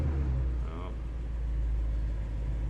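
A BMW M5 engine with its throttle electronically locked, so flooring the pedal yields only a steady, deep idling rumble with no rise in revs. Faint voices may sit beneath it.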